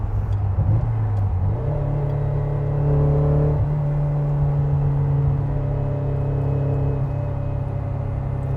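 A V8 sports car engine hums loudly from inside the moving car, its tone stepping up and down through gear changes with a steady rumbling drone and no voices.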